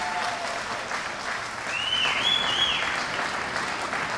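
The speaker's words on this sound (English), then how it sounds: "Yes, a round of applause, please, for all of them." Steady applause from an audience at the FIFA Interactive World Cup 2014 grand final for the finalists, a dense continuous clapping that swells slightly midway and keeps going throughout, with a faint whistle-like tone riding over it.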